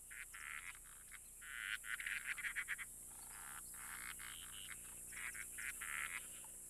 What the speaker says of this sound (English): Frogs emerge from the softened earth to begin their intense mating ritual.